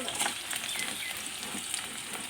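Panch phoron spices crackle in hot fat in a pan, giving a faint, continuous, hissing sizzle that stays even throughout, with no voices.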